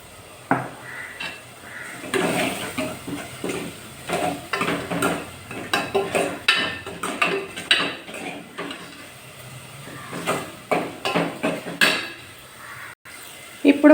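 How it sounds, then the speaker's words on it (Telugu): Ginger and shallot paste frying in a pan for a fish curry, with a repeated spoon clattering and scraping against the metal in an uneven rhythm over a soft sizzle, close up, with faint talk. "ఇందో ఒక పెద్ద స్పూన్ మొత్తం బాగా వేగనిద్దాం."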